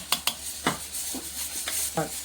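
Red chilli powder being stirred into a sizzling mutton masala in a pan, with several sharp spoon scrapes and clinks over a continuous frying hiss.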